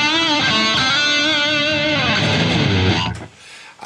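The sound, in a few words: electric guitar with delay and reverb through Boss Katana FX loop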